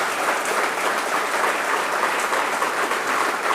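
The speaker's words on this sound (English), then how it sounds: "Don't want to interrupt the applause for Matt that he hasn't touched." Dense, steady applause from an audience at a ribbon cutting ceremony for a workshop, a loud, even wash of many hands clapping for the full stretch with no break.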